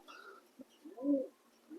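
A single male black fantail pigeon gives a soft, low coo, one short rounded call amid faint background noise, quiet and near.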